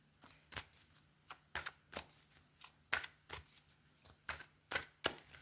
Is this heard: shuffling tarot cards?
yes